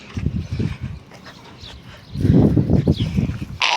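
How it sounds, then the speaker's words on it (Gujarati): A dog whimpers and whines up close in short bursts, with a string tied to its tail, some huffing breaths and a brief louder stretch partway through. "આપણે કૂતરીને પૂછડા રે બાંધી દઉં હવે કૂતરું ગાંડું થયો"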